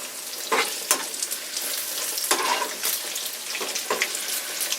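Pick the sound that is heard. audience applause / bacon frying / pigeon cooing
bacon frying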